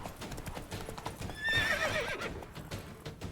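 Roach, the horse in The Witcher 3: Wild Hunt Blood and Wine, gallops with quick rhythmic hoofbeats and gives a sharp whinnying neigh midway, heard close and moderately loud.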